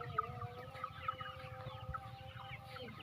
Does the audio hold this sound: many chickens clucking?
yes